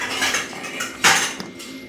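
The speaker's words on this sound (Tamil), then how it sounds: "நல்லா கிளறி இறக்க வேண்டியதுதான்." Ladle scraping and clinking against a pan while stirring fenugreek kali with sesame oil, a close, brief run of metallic scrapes with one sharper knock.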